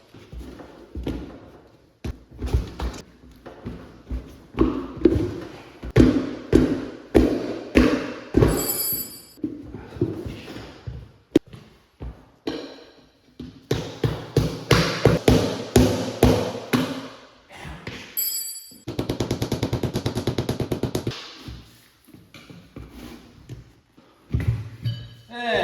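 A tire is knocked off a wheel with repeated hard, close thumps and bangs in uneven bursts, broken by brief pauses and a stretch of steady rattling grind.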